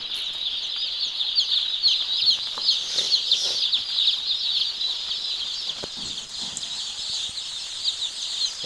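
A close, dense chorus of young chicks cheeping steadily alongside hens in a poultry shed, a continuous high-pitched peeping with occasional soft clucks and shuffles, no voices.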